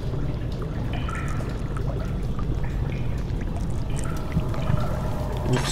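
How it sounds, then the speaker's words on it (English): Footsteps splashing and sloshing through water in the horror game Amnesia: The Dark Descent, a continuous churning wash of liquid with irregular splashes, fairly loud and steady throughout. "Making the most noise possible in the water."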